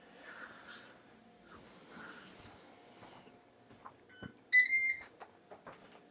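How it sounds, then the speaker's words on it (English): Pressure cooker after depressurizing, sounding a short set of bright electronic beeps near the end, preceded by soft breathy kitchen noise and faint rustling. "Beep, beep, beep. That's the sound of my stock having depressurized."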